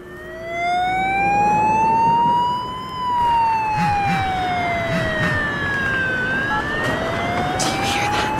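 Police siren in the horror video game Crimson Snow, a loud wailing tone sweeping slowly up and down through several long cycles, heard on its own without speech.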